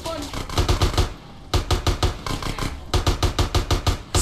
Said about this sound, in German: So, einfach ein bisschen schießen, damit der Lärm nicht so auffällt.